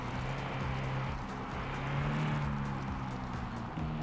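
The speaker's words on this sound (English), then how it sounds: "I can't even hear the radio over the car engine." A car engine running steadily in the video game Used Car Simulator, heard from inside the cabin as a loud, constant drone with a slight rise in pitch partway through.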